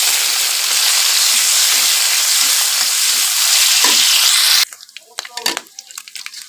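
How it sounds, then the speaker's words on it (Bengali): Shrimp frying with onion, garlic and chili, a loud dense sizzle running steadily for several seconds before cutting off to a few sharp clattering stirs and knocks. "চিংড়ি মাছগুলো আর পেঁয়াজ রসুনগুলো আমি এখন মরিচের সাথে ভালো মতো মিশিয়ে ভেজে নিব।"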